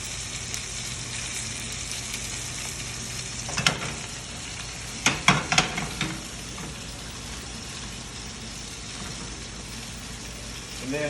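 Salmon sears in a hot pan with a constant, dense sizzle and crackle, interrupted by a few brief utensil clatters and spattering bursts in the middle.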